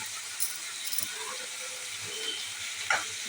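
Drumstick pieces with tomato and onion sizzle faintly in a hot pan, a soft steady hiss with a few small pops, heard alone at low volume.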